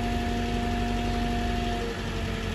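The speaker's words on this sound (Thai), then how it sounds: "เครื่องยนต์เป็นดีเซลนะคะคูโบต้า4สูบ" A Kubota RA500 wheel loader's four-cylinder diesel engine idling: a steady, even mechanical drone with a faint constant whine on top, close and unbroken throughout.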